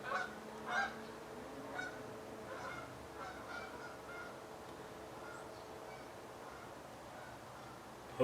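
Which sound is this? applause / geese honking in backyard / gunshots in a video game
geese honking in backyard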